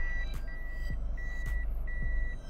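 A 2013 Toyota Camry 2.0 G Extremo parking sensor repeats a high electronic beep in evenly spaced pulses while reversing, over a low engine rumble, steady and close.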